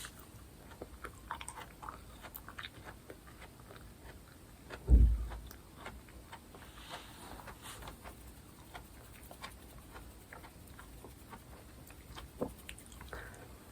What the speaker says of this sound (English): I keep making really gross swallowing noises.